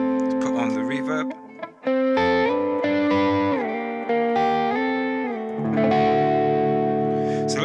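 Electric guitar through a BOSS GT-1000 rectifier-style high-gain patch with treble and presence raised and reverb on, playing sustained distorted chords and notes with a short gap, someone talking over parts of it.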